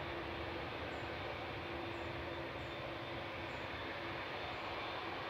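Etihad Boeing 787-10 Dreamliner departing Manchester Airport, a faint, distant, even engine rumble with a low drone and soft high chirps at intervals, no voices.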